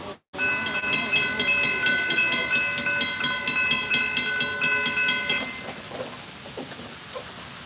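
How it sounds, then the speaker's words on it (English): A Brightline passenger train passes close by at a station in Stuart, its mechanical crossing bell ringing in a fast, steady series of loud clangs for about five seconds before cutting off, leaving the fading rumble of the train. "You guys hear that mechanical bell?"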